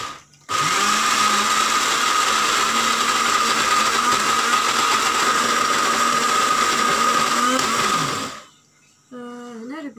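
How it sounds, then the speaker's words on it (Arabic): An electric grinder blends harissa peppers and garlic with olive oil, a loud, steady high whine running without a break for about eight seconds before winding down, followed by a brief low murmur. "وكنبداو نطحنوا هاد العناصر مع بعض"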